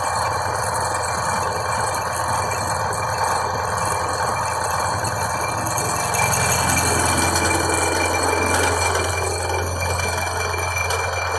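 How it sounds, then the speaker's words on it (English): A milling machine with a loose internal spline runs with a continuous mechanical rattle and gear clatter over a steady motor hum. It is loud and constant throughout, with no speech. "a lot of people are afraid to run these mills hard because they rattle"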